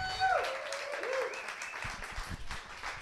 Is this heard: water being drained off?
no